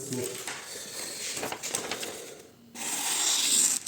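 Knife edge honed on a fine Thuringian sharpening stone, a series of scraping strokes with metallic rasp, close and fairly loud, broken by a short pause before a final sustained stroke.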